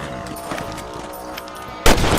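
A single loud rifle shot aimed at rabbits in Red Dead Redemption cracks out near the end, following a stretch of steady game ambience and music.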